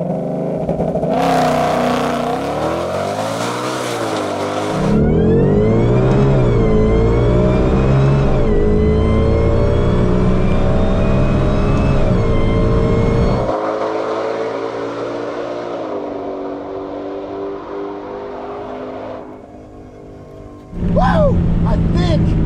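A 1300HP Ford GT500 running 93 octane launches down a prepped drag strip with traction control off, engine roaring loudly as it climbs through the revs and drops pitch at each gear shift, with a brief voice near the end.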